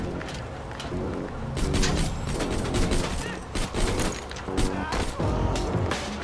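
Rapid automatic gunfire from a weapon in the video game Borderlands 2, dense bursts of shots and mechanical clatter running nearly continuously and loud throughout, with game effects layered underneath.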